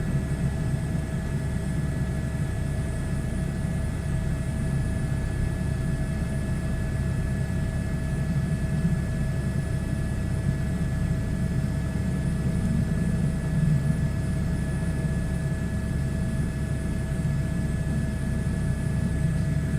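Steady, droning turbine and rotor hum of an H125 helicopter in flight simulation, continuous and unchanging for the whole stretch, with a constant high whine layered over a low rumble.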